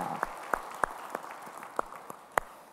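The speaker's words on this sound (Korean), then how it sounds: "우리 찬양을 받으실 주님께 영광의 박수 올리겠습니다" A church congregation at a Sunday worship service claps after praise singing, scattered sharp individual claps ringing out over a soft room hum, moderately distant and fairly quiet.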